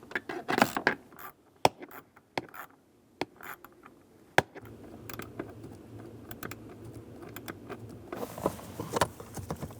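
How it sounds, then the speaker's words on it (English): Screws on a 2003–2008 Honda Pilot blower motor module are snugged down by hand tool, giving sharp, separate ratcheting clicks and clacks at irregular intervals, close and clear with no talking. "With all of the bolts started, go around and snug them down."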